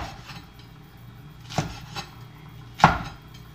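A knife cutting okra into diagonal slices on a board, three sharp separate knocks spaced out across a quiet background, the last one loudest.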